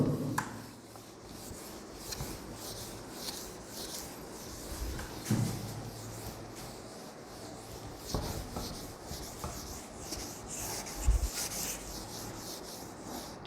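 Chalk or marker writing is rubbed off a classroom board in a physics lesson, producing steady, scratchy back-and-forth wiping strokes that are fairly close and continuous, with no talking.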